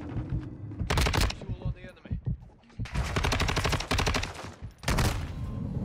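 Automatic gunfire in the Modern Warfare 2 video game rattles in loud, rapid bursts separated by short gaps, with game sounds and some voice mixed underneath.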